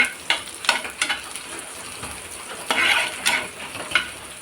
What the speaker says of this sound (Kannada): ಚೆನ್ನಾಗಿ ಫ್ರೈ ಆಗಲಿ ಕೆಂಪು ಬಣ್ಣ ಆಗಬೇಕು